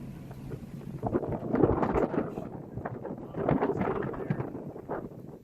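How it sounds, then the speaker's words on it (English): Strong sustained wind in the high 20 knots roars and buffets in rising and falling gusts, with deep rumbling surges and no voices. "So now we're running sustained winds of in the high 20 knots"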